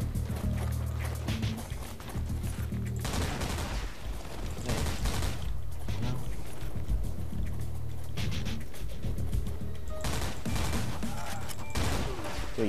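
Bursts of rapid gunfire in the video game Foreign Legion: Buckets of Blood, repeated volleys of shots crackling over a low droning background, loud and close, with pauses between the clusters.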